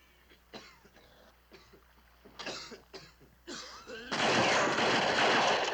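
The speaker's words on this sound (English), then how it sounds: "He came out shooting." A burst of gunfire in a 1969 Western shootout erupts after sparse sharp shots and scattered movie dialogue, the final volley loud and dense.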